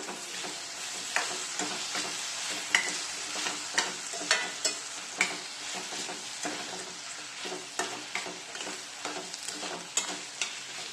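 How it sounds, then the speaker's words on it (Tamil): Spices, asafoetida and turmeric sizzling in a hot pan for tomato mint chutney, stirred with a spoon that scrapes in repeated sharp clinks over a steady frying hiss, close and fairly loud, with no talk. "இப்போ வதக்கிக்கலாம்"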